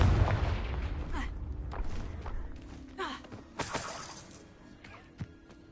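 A Confringo fire spell blast in Hogwarts Legacy, a crackling, shattering burst followed by several smaller explosive pops and thuds, with brief grunts and gasps in between.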